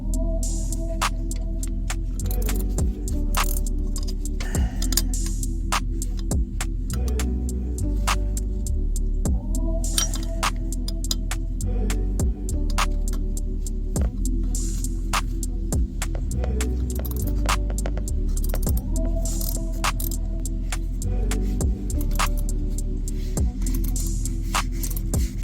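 Wrench work on the water pump pulley bolts of a 2014 GMC Acadia: repeated metallic clicks and ratcheting taps come in bursts over a steady low hum, close by, with no talk.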